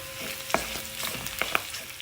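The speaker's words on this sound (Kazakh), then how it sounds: "мінекей қазанымыз қызып, ішіндегі майы қуырылып жатыр." Fat sizzling in a heated cauldron, a close, continuous crackle with a few sharp pops and a faint steady hum underneath, no voices.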